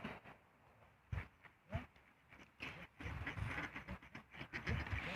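Ducks quack in short, irregular bursts, several calls spread across the moment, fairly faint and nearby with quieter gaps between them.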